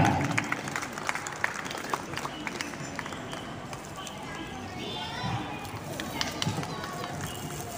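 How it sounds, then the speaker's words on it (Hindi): Outdoor applause at an Independence Day gathering in a residential society, a steady wash of many hands clapping at moderate distance, with scattered voices and crowd murmur mixed in. "श्री आर के गुप्ता साहब, जोरदार तालियां।"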